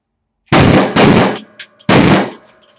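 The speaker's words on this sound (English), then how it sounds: "Test fire" Blank rounds from a Glock 17/19 pistol fitted in a Roni Mini carbine kit crack out in three loud, sharp reports, two close together and a third after a short pause, each followed by a brief ringing echo.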